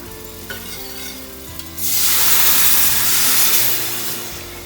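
Milk poured into a flour-and-butter roux for nacho cheese sauce sets off a sudden, loud, steady hiss and sizzle that follows a quieter stretch of gentle cooking, with no talk.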